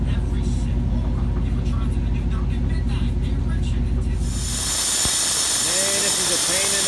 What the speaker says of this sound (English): so I put penetrating oil in the hole, blowing air in there, and blocking 14 ports right here